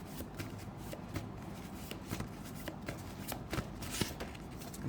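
Tarot cards are shuffled in quick, continuous riffling bursts with crisp slaps and flutters, close up and fairly quiet, with no talking.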